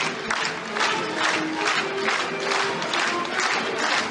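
A dinner crowd cheers and applauds Maureen McTeer, producing a steady wash of clapping with rising shouts and cheers that hold at moderate loudness, a little distant and without clear talk.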